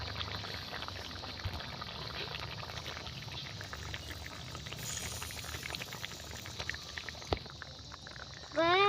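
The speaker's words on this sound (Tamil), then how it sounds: "நல்லா கொதிக்கட்டும், அது வரையும் வெயிட் பண்ணுவோம்" Egg gravy simmers in a pan after two eggs are cracked in, giving a faint, steady bubbling with a single sharp clank near the end.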